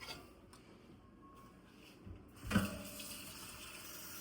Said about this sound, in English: We're going to cover these with water.